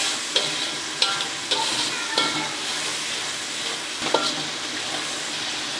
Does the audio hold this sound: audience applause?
no